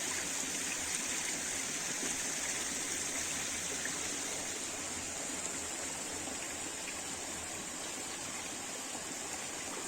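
A forest creek flows continuously, a steady close rush and babble of water with no talking.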